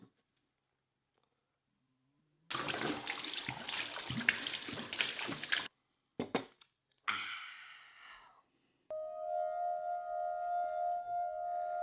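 Coffee poured into a cup in an office kitchen, a few seconds of steady splashing pour followed by short clinks and knocks, then a sustained electronic hum near the end.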